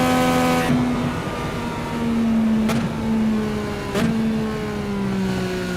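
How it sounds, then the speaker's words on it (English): Indy 500 pace car pulling away from the pit with a steady engine tone that gradually shifts in pitch, while two brief sharp passes from other cars cut through midway. "the pace car has just left"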